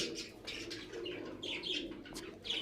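Purebred Sakhi teddy pigeons, a Pakistani breed, coo softly in a loft, with faint chirps and a brief flutter of wings at low volume.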